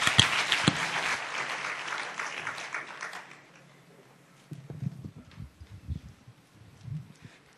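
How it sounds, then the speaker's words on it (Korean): Congregation applause in a church fills the first three seconds, then fades out, leaving quiet shuffling and faint low sounds for the rest. "우리 하나된 교회 박수 부탁드립니다"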